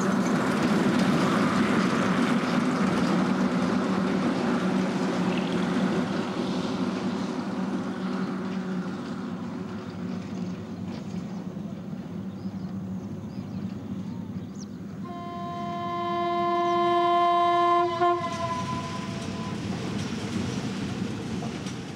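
A train rumbles steadily along the Burma death railway through jungle, a loud continuous rolling roar, then a long multi-toned whistle blares for a few seconds near the end.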